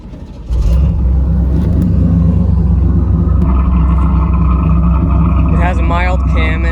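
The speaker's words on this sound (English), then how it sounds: "It's got a Flowmaster exhaust, and it sounds really good." A fuel-injected 5.0 305 V8 with a mild cam and Flowmaster exhaust fires up after a brief quiet moment, then holds a loud, deep, steady rumble close by.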